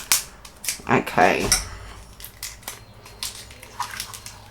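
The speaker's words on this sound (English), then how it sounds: "I'll just grab my scissors" Scissors snip at a ribbon on a craft table, giving a few sharp crunching cuts early on, followed by quieter handling clicks; a brief spoken word is heard.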